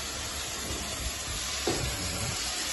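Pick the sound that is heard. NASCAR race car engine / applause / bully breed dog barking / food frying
food frying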